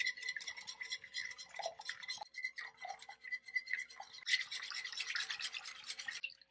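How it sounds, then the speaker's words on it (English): A whisk beating butter and milk in a bowl to make homemade heavy cream, producing rapid, steady metallic clicking and swishing strokes that stay close and continuous, with a brief pause partway through. "I'm just gonna go ahead and whisk for another 30 to 45 seconds"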